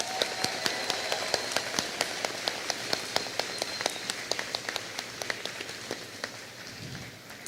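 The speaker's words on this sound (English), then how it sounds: "Can we give them one more big round of applause?" Scattered applause from an audience for a band at a school news show, a thin spread of separate handclaps, fairly faint and steady, with no talking.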